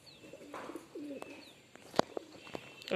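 Pigeons coo softly nearby, with a few scattered chirps and light clicks against a quiet background.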